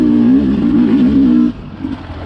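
A Sherco SE300 Factory Edition two-stroke trail motorcycle revs hard in second gear, giving a loud, close, wavering engine note. The note drops off abruptly partway through and settles into a lower, rougher idle.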